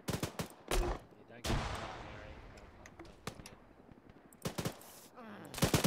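Gunfire in the Arma 3 military shooter, with sharp close shots at the start, a long rolling burst of automatic fire through the middle, and rapid repeated shots again near the end.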